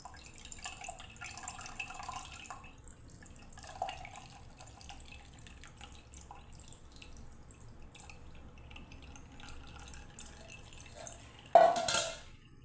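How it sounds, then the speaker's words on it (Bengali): Watermelon juice is poured into a large glass, making faint, soft trickling and dripping sounds over a quiet background with no talk, followed by a brief louder splash near the end. "এই দেখুন ঢালছি আমি।"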